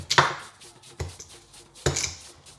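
Three sharp, crisp knife chops strike a chopping board at roughly one-second intervals as food is cut, each a close, loud knock that quickly decays, with no voices.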